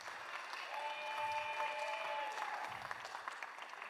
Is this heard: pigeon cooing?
no